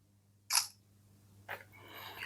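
Two sharp shutter clicks from the front camera of an Infinix Note 40 Pro smartphone, about a second apart, the second followed by a soft rustle, in a quiet room with a low steady hum.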